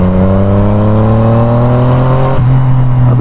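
A Yamaha MT-09 motorcycle engine revs hard under acceleration, its steady rising drone climbing in pitch before a brief dip as the gear shifts, then pulling on loud and close throughout.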